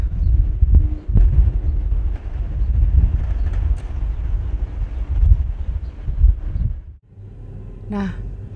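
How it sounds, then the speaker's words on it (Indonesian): Strong desert wind buffets the microphone near a fishing village in the desert, a loud continuous rumbling roar that surges and dips throughout, with a brief drop near the end. "Anginnya kencang sekali."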